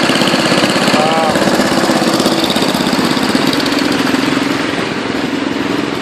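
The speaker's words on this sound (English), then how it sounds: "This is my Hahn Power Pro 21-inch, all original, actually pretty good shape, runs real good." A Hahn Power Pro 21-inch lawn mower, all original and in good running shape, with its engine close and loud, holding a steady, throbbing rattle that eases slightly toward the end; a voice is faintly present.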